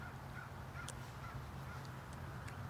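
A crow caws several times outdoors, faint and somewhat distant, over a steady low rumble of ambient background noise on a walk.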